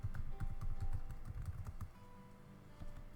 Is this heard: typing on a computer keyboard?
yes